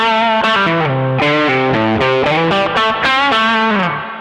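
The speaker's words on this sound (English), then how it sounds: "And then I could also add a big nice reverb to that." Electric guitar through a NUX Cerberus pedal with a big reverb added, loud melodic notes ringing out and blurring into each other in a flowing phrase, no talking.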